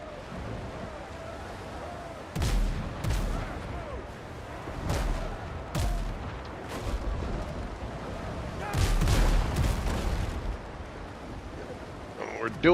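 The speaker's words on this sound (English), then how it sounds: "The cannons take so long to reload." Ship cannons fire in a naval video game battle, a series of loud booming blasts spaced a few seconds apart over a steady wash of sea and gameplay noise.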